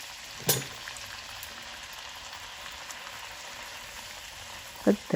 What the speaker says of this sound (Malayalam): അപ്പം ഞാൻ പെട്ടെന്ന് പൂരികൾ ചുട്ടെടുക്കട്ടെ